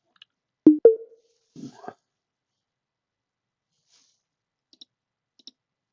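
A computer mouse gives a few sharp, close clicks: a quick pair, then another, followed by fainter isolated clicks after a pause, in an otherwise quiet room.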